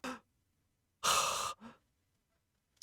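Heavy, labored breathing from a man, a few loud exhaled sighs and gasps separated by silence, with one long harsh breath in the middle.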